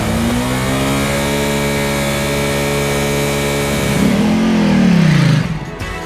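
A Ducati XDiavel cruiser motorcycle's engine revs hard for a full-throttle launch, a loud steady roar holding for several seconds, then climbing sharply in pitch before cutting off.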